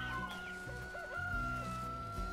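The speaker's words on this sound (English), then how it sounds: "Whoops! I didn't mean to hit the chicken." A chicken in the Valheim video game clucks and squawks after being struck, a few short fowl calls over steady game music and ambient hum, moderately loud and close.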